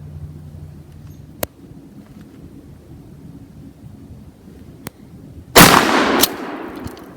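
A Remington 870P or Mossberg 590A1 shotgun firing double-aught buckshot outdoors, heard as a few sharp, isolated cracks spread apart and then one loud, booming blast with a brief rumbling tail.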